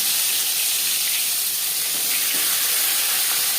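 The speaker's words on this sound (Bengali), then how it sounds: "4 চামচ রিফাইন্ড অয়েল গরম করে নেওয়ার পর দিয়ে দেবো ম্যারিনেট করে রাখা মাছ।" Marinated tilapia fish frying in hot refined oil, a loud, steady, close-up sizzle that stays even from start to end.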